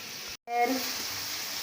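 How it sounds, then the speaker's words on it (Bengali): Fish frying in a wok (kadai) gives a steady, close hiss of sizzling oil that breaks off for a moment and then comes back, with a faint tonal whine under it. "কড়াইয়ের ভিতরে মাছটা ভেজে নেব"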